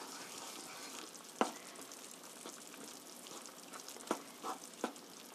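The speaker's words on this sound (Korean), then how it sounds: "이렇게 고루 저어주세요" Curry stirred in a pot, giving a soft steady sizzling bubble with a few faint scraping knocks of the utensil, quiet and close, with no talk.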